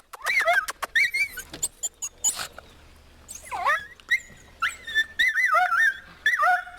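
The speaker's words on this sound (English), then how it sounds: "Oh, there's a dog. Looks like he has a hurt leg" A small dog with a hurt leg, met outdoors on a rural road stop, gives several short high whines and yelps in quick bursts, close and fairly loud, with pauses between them.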